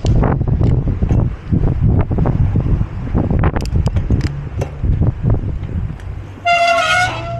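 Strong wind buffets the microphone in gusty bursts, followed at the end by a loud, sustained high-pitched squeal of bicycle brakes.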